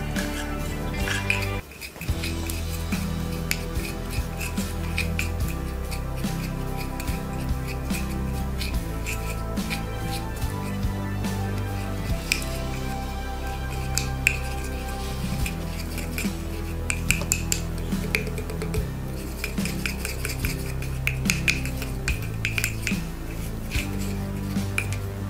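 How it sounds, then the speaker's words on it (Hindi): A spoon stirs a homemade whitening face pack remedy in a small bowl, clinking and scraping steadily against the sides for a long, continuous stretch, close and fairly loud with no talking. "अब हम इसको अच्छे से मिक्स कर लेते हैं।"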